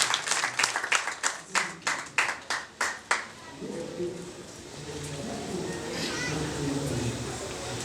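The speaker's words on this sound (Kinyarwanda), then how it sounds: "Mumunyongera amashyi menshi cyane." Hands clap in a quick run of sharp, rhythmic bursts at a traditional Rwandan betrothal ceremony, then fade into a broad crowd murmur and background chatter.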